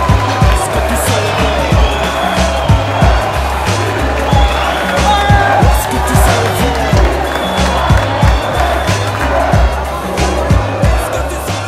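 French football fans cheer for France in Grenoble as a dense crowd roar fills the space, with a steady pounding rhythmic beat, likely drums or chanting, repeating throughout and scattered shouts on top.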